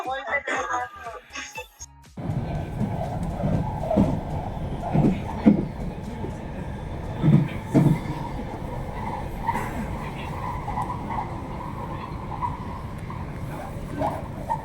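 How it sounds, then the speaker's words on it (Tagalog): Steady rumble of a moving train carriage on a London line, running continuously after a brief burst of nearby talk at the start, with occasional soft knocks and clatter. "Just in the train, everyone."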